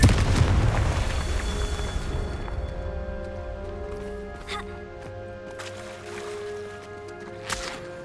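Confringo blasting spell in a Harry Potter video game, a loud booming explosion at the start that decays into a ringing tail, followed by lighter magical pops and tones.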